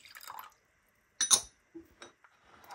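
Cold water goes into a glass jar for a home cough remedy, heard as a few quiet, separate splashes and a bright glassy clink between silent gaps.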